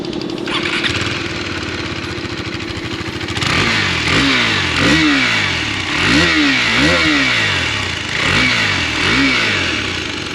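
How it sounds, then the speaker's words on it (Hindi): A KTM RC 390 MotoGP single-cylinder motorcycle exhaust drones at a steady idle, then is blipped through a series of about six sharp, loud revs that rise and fall in quick succession, close and with no talking. "और इस एग्जॉस्ट की जो आवाज़ है एक बार मैं आपको भी दोबारा सुना देता हूँ, एक बार वो सुनो आप।"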